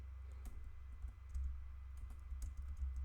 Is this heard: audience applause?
no